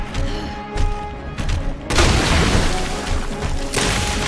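Gunshots in Resident Evil 2 Remake during a boss fight, a series of loud booming blasts and thuds over dense game noise, with a heavier burst partway through.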